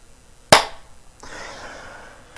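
A single sharp clap from an emote in the Smite video game, a crisp isolated hit followed by a soft, fading game ambience.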